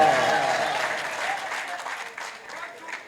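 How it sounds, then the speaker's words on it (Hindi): An audience claps loudly at an all-India mushaira poetry recital in Kandhla, Shamli, a dense burst of applause that slowly tapers over a few seconds. "अच्छे से बजा दीजिएगा ताली तो मैं खुश हूं"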